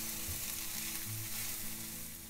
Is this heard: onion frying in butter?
yes